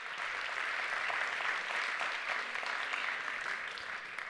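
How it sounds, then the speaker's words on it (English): Audience applause at an awards ceremony in Berlin, a dense, steady wash of many hands clapping at even loudness throughout, with no voices over it. "Let's give them a round of applause."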